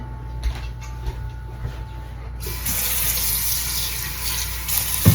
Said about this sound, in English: I'm going to put more water in the pot and get that ready for blanching.